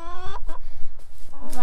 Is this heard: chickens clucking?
yes